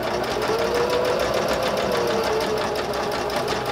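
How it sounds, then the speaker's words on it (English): A sewing machine back stitches a bag handle cover, running in a steady, close rattling hum of rapid stitches for a few seconds without a break. "Back stitch a little bit."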